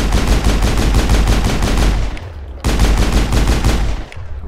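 Loud, rapid automatic weapon fire in the Mass Effect video game comes in two long sustained bursts separated by a brief pause, with no talking.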